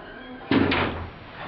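An original Otis hydraulic elevator door at a department store slides shut with a sudden solid thud followed by a short rumbling roll that fades, in a quiet interior.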